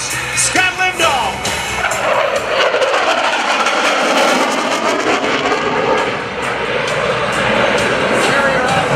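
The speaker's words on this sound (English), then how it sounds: "This is called the Hornet carrier break." A US Navy F/A-18C Hornet jet roars past in a carrier break maneuver at an air show demonstration, loud and close, its engine noise sweeping and shifting in pitch across the whole stretch with crowd noise underneath.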